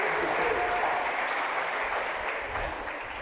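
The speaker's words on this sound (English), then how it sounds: "Give yourselves a round of applause for coming out tonight for such a spirited and important debate" An audience applauds steadily after a spirited Middlesex County district attorney candidate debate, a moderately faint wash of clapping in a hall that slowly thins out.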